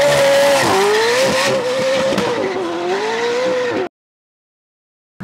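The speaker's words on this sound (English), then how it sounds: "PJ is going to do a burnout in this" A 1000 hp McLaren 765LT revs hard with tires squealing in a sustained, wavering screech for several seconds, loud and close, then cuts off abruptly into silence.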